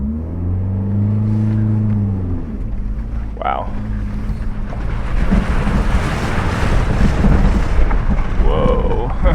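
A vehicle on a rough, rocky road in Mongolia rumbles into a small river crossing, with engine drone, sloshing water and wind buffeting the microphone; a person exclaims briefly partway through.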